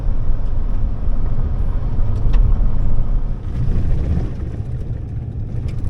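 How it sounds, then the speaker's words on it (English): A vehicle rattles along a washboard dirt road near Devils Tower National Monument, giving a loud continuous low rumble with an uneven, shaking texture and no voices. "We're shaking it up here on this Washboard Road."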